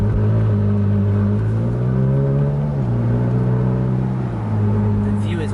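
Ferrari 458 Italia engine pulling hard on a road test drive, a loud steady drone rising in pitch, dipping at a quick gear change near the middle, then climbing again, heard from inside the cabin.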